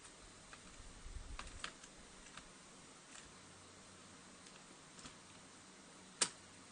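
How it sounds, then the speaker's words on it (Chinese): Sparse, faint key clicks on a computer keyboard, pressed to drive a car in an Unreal Engine 5.2 vehicle setup; a few soft, scattered taps in a quiet room, with one sharper click near the end. "你可以按下键盘"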